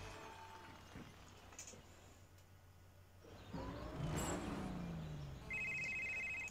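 In the racing game Test Drive Unlimited 2, a phone rings in a short repeated electronic tone near the end, over a low engine hum and other game sounds.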